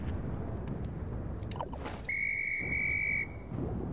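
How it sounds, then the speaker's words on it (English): A single steady, shrill whistle blast from a player character in the video game Labor Simulator 2016, held for over a second over background hum and faint clatter. "I just blew my whistle."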